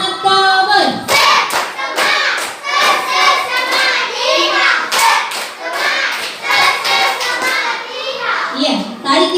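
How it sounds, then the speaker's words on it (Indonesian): A class of schoolchildren claps a rhythmic cheer together in a classroom, sharp hand claps and thumps repeating in a quick pattern while children's voices chatter over them, loud and close throughout. "Tepuk semangat kawan."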